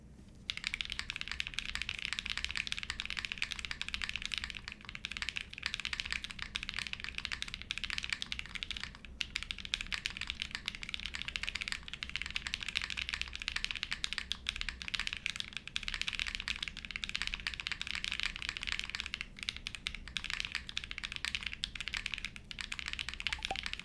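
Mechanical keyboard with full nylon long-pole Obscura switches lubed with 205g0 on a polycarbonate plate, typed continuously for about twenty-four seconds in a steady, dense patter of close, clear clacks with no talking.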